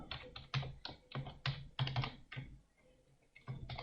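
Arduino code typed on a computer keyboard, several quick bursts of close, clicky keystrokes, then a short pause before the typing resumes, with no voices.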